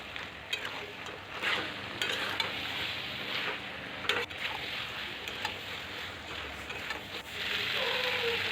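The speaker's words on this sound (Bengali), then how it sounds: "যতক্ষণ না মাংস থেকে তেল তেল ছাড়ছে ততক্ষণ আমি ভাজব ভালো করে" Chicken pieces with tomato frying and being stirred in oil, a continuous close sizzle with repeated spoon scrapes and clinks against the pan, growing slightly louder at the end.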